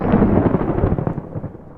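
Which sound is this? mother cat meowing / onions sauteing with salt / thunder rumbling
thunder rumbling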